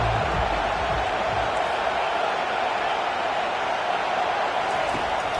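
Steady roar of a college football stadium crowd in a video game, a broad continuous wash of massed voices with no distinct peaks, running under a commentator's talk.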